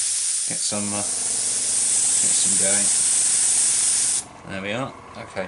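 Steady hiss of a compressor-driven airbrush spraying sealer onto model terrain, run at 15 psi, lasting about four seconds before cutting off, with a voice talking over it and afterward.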